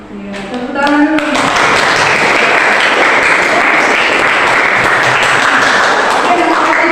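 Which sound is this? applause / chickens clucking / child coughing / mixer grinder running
applause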